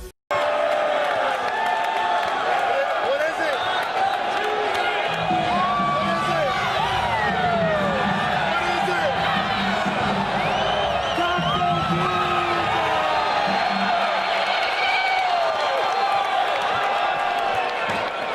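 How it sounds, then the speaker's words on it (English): A packed basketball arena crowd, LeBron James among the fans, roars and whoops for Taco Tuesday, a loud sustained wall of shouting and cheering with scattered yells and clapping throughout. "Here is LeBron and some other fans in a game cheering for Taco Tuesday."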